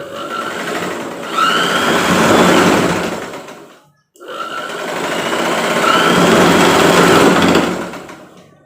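A Singer home sewing machine's 220-volt AC motor, rated at 4500 RPM and controlled by a foot pedal, whirs loudly in two long runs. Each run climbs in speed, and the two are separated by a brief stop.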